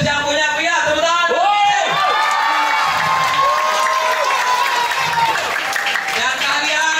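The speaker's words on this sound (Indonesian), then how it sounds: "PEC keren, satu-satunya kursus yang punya villa, tepuk tangan" Camp students in a crowd break into applause and cheering, a steady wash of clapping and excited shouts that holds strong and loud throughout.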